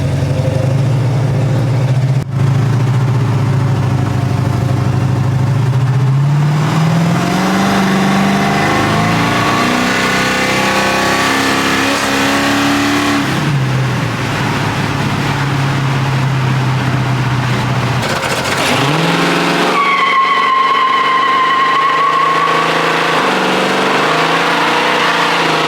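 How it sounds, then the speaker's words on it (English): A 1970 Pontiac LeMans drives along with racing slicks loose in the trunk, engine droning and revving up and down through shifts at close range, ending as it settles down. "If you could hear that kunk kunk, that's because I have my slicks in the trunk."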